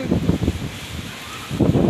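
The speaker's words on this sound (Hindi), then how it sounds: "बहुत तेज़ हवा है" Gusty wind buffets the microphone in loud, rumbling bursts that ease off briefly in the middle before surging again.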